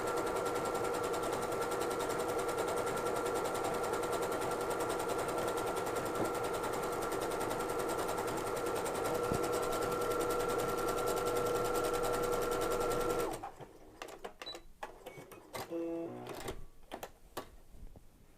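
Sewing machine running an overcast stitch along the edge of pre-quilted fabric, a fast continuous loud whirring buzz that stops abruptly near the end, followed by light handling clicks.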